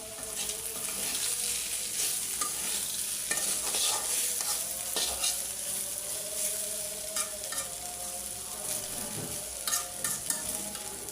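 Bitter gourd and onion stir-fry in a hot pan, a steady close sizzle with repeated scraping and stirring strokes throughout, no voices.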